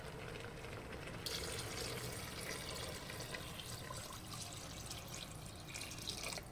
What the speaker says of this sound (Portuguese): Nós vamos acrescentar água até cobrir a nossa carne